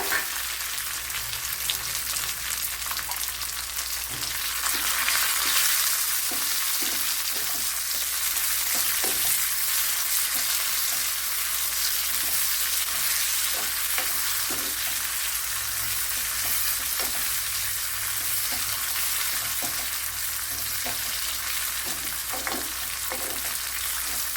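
Tomato frying in a pan for a pumpkin pulissery curry, giving a loud, continuous close sizzle with occasional crackles and spatters throughout, no voices.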